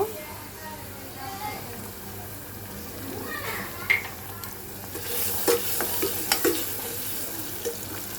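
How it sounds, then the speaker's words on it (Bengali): Eggs go into fried onions in a pan, giving a soft sizzle with scattered clinks and scrapes of stirring while a voice talks over it. "এখন আমি পেঁয়াজের মধ্যে ডিম দিয়ে দেব"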